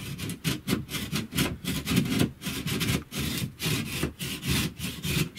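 Sawing through a wall to trim a cut-out opening for an electrical box, steady back-and-forth rasping strokes in a quick regular rhythm, close and fairly loud with no talk.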